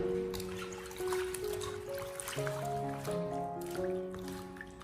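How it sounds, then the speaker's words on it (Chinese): Water trickles and drips as cabbage is washed by hand in lightly salted water in a basin, with soft splashes and dribbles close by over a steady background of music, no voices. "将包菜给它清洗干净。 我们在清洗的过程中，往里面添加少许的食盐，用淡盐水来清洗"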